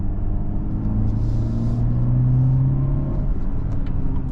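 A 2024 Mercedes-Benz GLE 350 engine hums low and smooth from inside the cabin while the heavy SUV drives through corners, a steady rumble with a brief rise in pitch.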